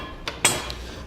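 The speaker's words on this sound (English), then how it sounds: "we'll begin dropping our carriage bolts through" Steel carriage bolts drop through the holes of a Ram truck bed rail during a Curt fifth wheel installation, giving two or three sharp metallic clinks, the middle one loudest, close by with no talk.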